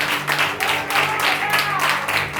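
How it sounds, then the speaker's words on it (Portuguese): A church congregation claps along in a steady rhythm, a dense wash of hand claps with a sung or spoken voice and a low sustained tone underneath. "Exalte a Deus com as palmas"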